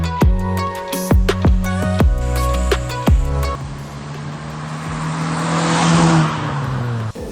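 A 2000 Honda Civic Ferio engine revs in several sharp bursts, then settles into a steady, loud drone of driving with rushing road noise that builds toward the end.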